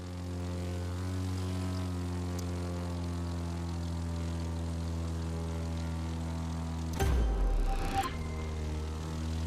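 A propeller airplane engine in The Crew 2 racing game drones steadily with strong low harmonics throughout, then a brief louder burst of noise and rising whine near the end before settling back to the even hum.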